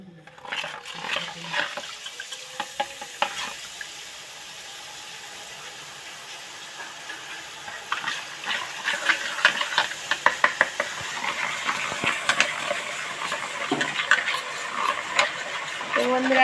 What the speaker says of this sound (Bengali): তো বন্ধুরা দেখতেই পাচ্ছ আমি কিভাবে বুদিয়া ভাজছি।